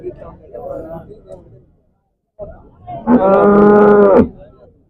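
Cattle mooing at the Chintamani cattle market, a long loud bellow rising clearly after softer grunts and low lowing, close by with a brief pause before the main call.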